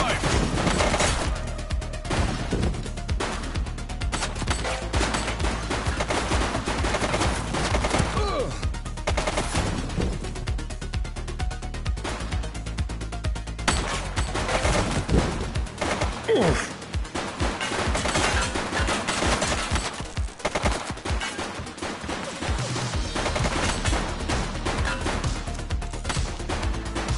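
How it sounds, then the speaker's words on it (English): Gunfire in The Precinct, a police game: dense bursts of shots and rapid automatic fire run almost continuously at high volume, with brief lulls and shouted voices mixed in. "Shots fired!"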